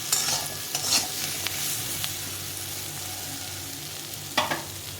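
Jackfruit seeds and Malabar spinach sizzling in a pan while being stirred, with a continuous close hiss and a few sharp scraping stir strokes, no talking.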